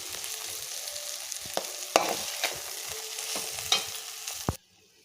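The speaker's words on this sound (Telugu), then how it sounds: "మొత్తం సాల్ట్ కలిసేలాగా మొత్తం కలిపేసుకోవాలి" Cluster beans fry in a pan as salt is stirred in, with a close crackling sizzle and repeated spoon scrapes and knocks that stop abruptly near the end; no one speaks.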